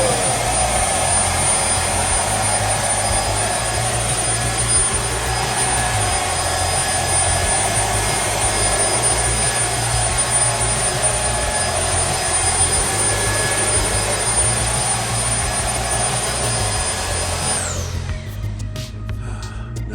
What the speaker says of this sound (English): I wanted to demonstrate that this vacuum has 3 different speeds